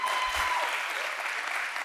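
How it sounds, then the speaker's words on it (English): Audience applause at a Model United Nations conference opening ceremony, a steady wash of clapping from a large hall throughout, with a faint voice briefly heard early on. "please hold your applause till the end"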